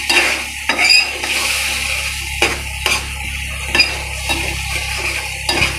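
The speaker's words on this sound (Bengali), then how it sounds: "গরম পানি দিয়ে এখন সুন্দর করে কষিয়ে নিতে হবে" Masala being stirred and fried in a pot with hot water added, a steady sizzle broken by repeated clinks and scrapes of a spoon against the pot, close and clear.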